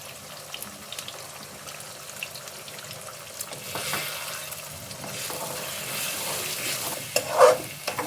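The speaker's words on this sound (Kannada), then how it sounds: "ಈಗ ಮೊಟ್ಟೆ ಹಾಕೋತಾ ಇದ್ದೀನಿ" Egg frying in a pan with half-cooked capsicum and onion, a soft steady sizzle with occasional stirring clicks that grows louder toward the end.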